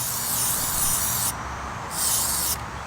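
Aerosol spray paint can hissing in two bursts onto the emblem of a 2019 Mustang GT, each a steady close spray separated by a short pause.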